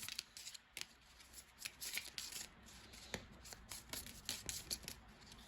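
Tarot cards are shuffled by hand, a close, crisp run of riffling and snapping flicks in irregular bursts over several seconds, with no voice.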